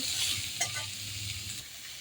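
Bitter gourd stir-fried in a pan gives a steady, close sizzle with soft stirring scrapes running through it, continuous and fairly loud with no talk.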